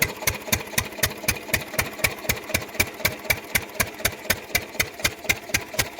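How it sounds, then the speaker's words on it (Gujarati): A diesel engine pumping water from a river canal for farm irrigation runs with a steady, fast, loud thumping rhythm of evenly spaced knocks that continues unbroken. There is no talking over it. "આપણો ઇન્જિન છે પાણી ખેંચવાવાળો. હા, ડીઝલ ઇન્જિન."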